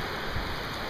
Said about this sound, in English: Ooh, a little hail in there too, I think.